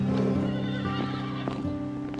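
Horses whinnying with a long, loud neigh near the start, followed by quieter snorts and hooves clip-clopping in short irregular steps close by.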